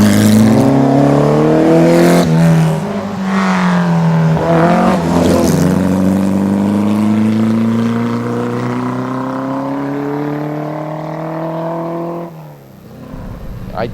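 A 1600cc, 170-horsepower car engine drives a narrow rally road, revving loud and close with rising and falling pitch as gears shift, then easing off near the end.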